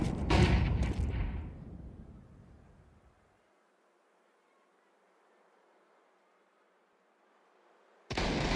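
A grenade and a flashbang go off in Counter-Strike 2: a loud, close blast opens with a long decaying rumble that fades to near silence, then another sharp burst cuts in at the end.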